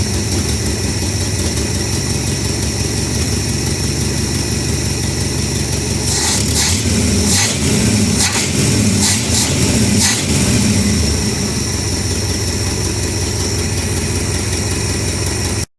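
Chevrolet Opala V8 engine with a Holley Quadrajet carburetor idling close up, a steady loud rumbling drone with a lumpy beat, joined midway by a few sharp metallic taps and rattles before settling back to a plain idle.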